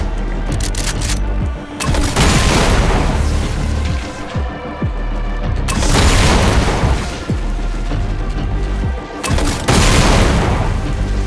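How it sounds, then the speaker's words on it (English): Rocket launcher blasts in DOOM 2 with Project Brutality, three loud booming volleys at roughly four-second intervals, each a dense burst of explosions and crackling debris with ongoing gunfire and game noise between. "kind of using the rocket launcher now"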